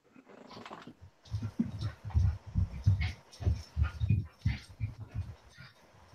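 Several dogs growl, whimper and yip close by in a steady rhythm of short bursts through most of the stretch, with no talk over them.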